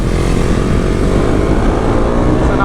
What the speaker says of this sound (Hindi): मेरे को तेरी बाइक की भी आवाज़ आ रही है